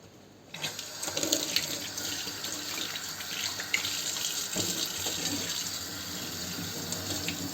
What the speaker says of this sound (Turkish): Şimdi bir durulayalım.